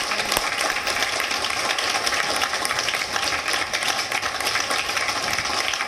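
Audience applause filling a stage hall at a poetry gathering as a woman poet is welcomed, dense steady clapping throughout, loud and continuous.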